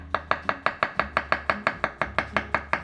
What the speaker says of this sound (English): We're gonna chop some because they're an important part of the meal.